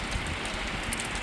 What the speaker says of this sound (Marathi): बघा पाऊस कसा चालू झाला आहे गाईज.